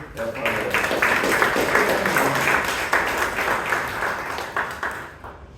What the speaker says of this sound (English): a big round of applause to Bhavana, Toastmaster of the day